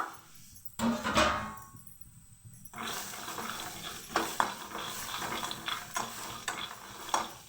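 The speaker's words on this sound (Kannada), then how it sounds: "ಇವಾಗ ಹಸಿ ಕಳೆಕಾಯಿ ಬೀಜನ ಸ್ವಲ್ಪ ಹುರ್ಕೊಂಬಿಡ್ಬೇಕು" Raw karonda (kalakai) seeds roasting in a pan, stirred with scraping strokes over a soft sizzle, brief quiet gaps between bursts of stirring, close and fairly loud, no talk.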